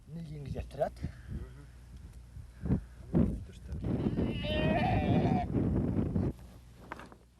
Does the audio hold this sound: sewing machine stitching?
no